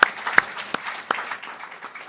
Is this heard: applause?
yes